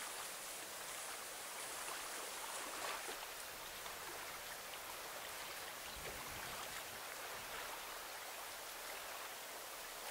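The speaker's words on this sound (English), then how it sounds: "The apple is bobbing along in the water as we float on by." Steady, soft rushing of river water flows evenly throughout, a continuous broadband wash with no voices or distinct events.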